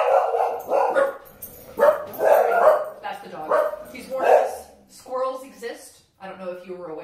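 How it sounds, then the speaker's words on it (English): Dog barking at squirrels, repeated loud sharp barks in irregular bursts, close by, with a voice talking between and over them. "So far, we've never been attacked by squirrels, thanks to the constant vigilance of our dog, Scooby"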